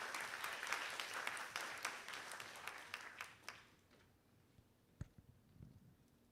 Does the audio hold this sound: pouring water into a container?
no